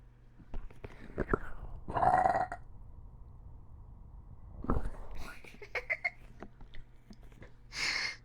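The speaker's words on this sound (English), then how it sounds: "You burp." A single close, low burp rumbles out in a quiet room amid soft breathy noises, short bursts and faint whispering.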